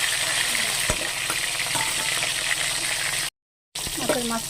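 A hilsa fish head fries in hot oil with a continuous, crackling sizzle close by. Scattered clinks and a short gap break it, and a few faint tonal sounds come near the end.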